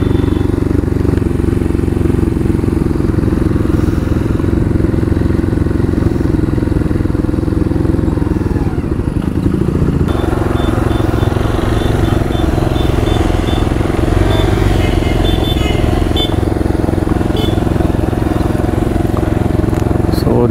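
A motorcycle engine runs continuously while riding an off-road trail, a loud steady drone with rattles and clatter; people talk over the engine noise.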